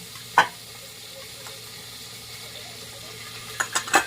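Beans with masala fry in a pan under a faint continuous sizzle, with a sharp spoon scrape at the start and a few quick stirring clatters near the end, close by.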